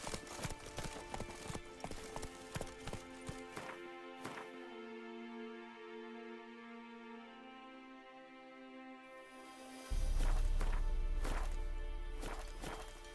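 A horse gallops in The Witcher 3: Wild Hunt video game, its rapid rhythmic hoofbeats loud at first and then dropping away under a sustained musical tone, before a heavy rumbling swell and renewed hoof clatter.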